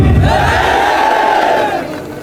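A large rally crowd roars a Jai Bhim chant in unison, a loud sustained collective shout from many voices that swells and then tails off near the end.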